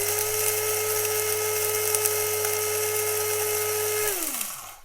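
An electric grinder whirs loudly and steadily through coffee beans, a dense high-pitched motor whine that holds level, then winds down with a falling pitch as it switches off.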